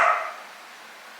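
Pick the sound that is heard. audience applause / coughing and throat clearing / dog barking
dog barking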